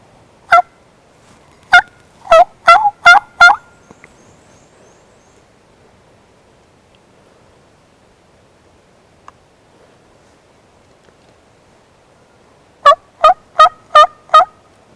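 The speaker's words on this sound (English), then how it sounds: "Sounds like we got some birds that are coming" Wild turkeys gobbling during a hunt, two bursts of rapid, loud gobbles close by, several calls in quick succession at the start and another run near the end, with quiet outdoor stillness between.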